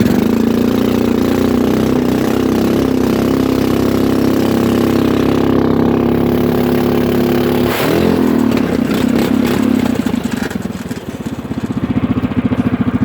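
A small go-kart mower engine drones loudly and steadily up close, with a brief change in pitch midway and a rougher, pulsing running toward the end.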